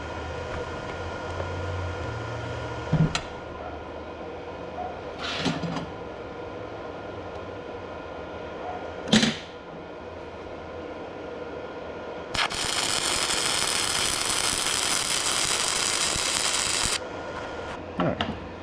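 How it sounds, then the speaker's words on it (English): A small Sefaspe 135E flux core MIG welder running at 75 amps gives a steady, loud crackling hiss for about five seconds, preceded by a few scattered clicks and thumps. "let's get into this and see what 75 amps on this little MIG welder can do"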